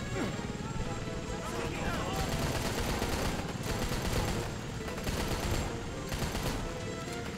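Gunfire in the Rambo video game, rapid bursts of automatic shots rattling through a busy battle mix, with someone talking over the shooting.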